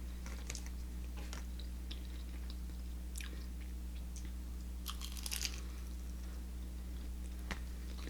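Someone chews crunchy Church's fried chicken close to the mic, faint irregular crisp bites and crackles over a steady low hum, with no talking.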